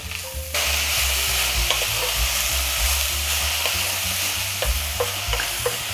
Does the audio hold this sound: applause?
no